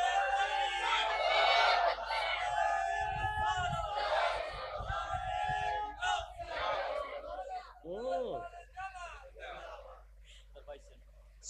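A large gathered crowd at a Bengali Islamic sermon shouts a takbir chant in loud unison, rising and falling in waves over several seconds before a few separate calls and a spoken voice.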